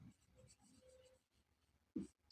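Chalk or marker writing on a classroom board, faint, short scratchy strokes in broken bursts, with a quiet voice murmuring in the background.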